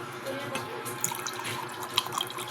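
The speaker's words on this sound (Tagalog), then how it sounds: "Lagyan muna natin ng tubig" Water runs from a tap into a container while preparing milk, a continuous splashing flow with a few bright drips and clinks, moderately loud.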